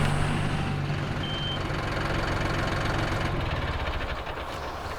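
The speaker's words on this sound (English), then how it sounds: "We're gonna grab the tractor, scoop it up," A tractor engine rumbles steadily nearby at a compost pile on a farm, with a repeating high reversing beep sounding through the first part before the engine continues alone.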